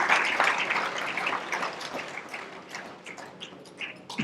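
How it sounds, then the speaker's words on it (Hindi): Scattered audience applause at a workers' political rally in India, sparse uneven claps that start moderately strong and thin out, fading to lighter patter toward the end. "उनके लिए भी जोरदार तालियों से अभिनंदन प्लीज"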